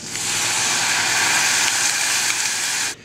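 Balsamic vinegar and red wine hitting crisped onions in a hot pan give a loud, dense, steady hiss and sizzle close up, with no voices, cutting off sharply at the end.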